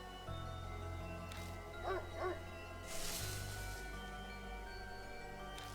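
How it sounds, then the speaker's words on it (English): A dog barks in a video game, a couple of short yelps over a steady droning game soundtrack, moderately loud, followed by a brief whoosh. "It barks loudly, then vanishes."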